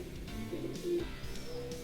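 Soft, low coos of Uzbek pigeons repeat in a gentle rolling rhythm against a steady background hum.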